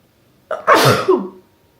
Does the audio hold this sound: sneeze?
yes